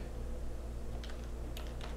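Typing on a computer keyboard during a music theory lesson on harmonic and melodic minor scales, a few quick faint clicks heard over a steady low hum, no voices.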